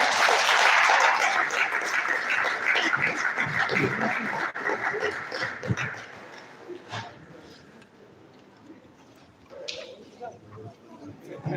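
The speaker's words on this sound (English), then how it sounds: "That clap was for Professor Ahmad Adamu." A round of applause from an audience at an end-of-year get-together, loud at the start and tapering off after about six seconds, followed by scattered murmurs and a few stray claps.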